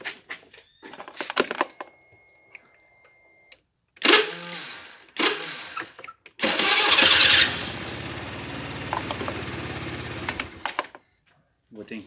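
A motorcycle engine cranks and starts after a battery replacement, a loud steady running burst of several seconds with starter clatter before it, while someone talks nearby.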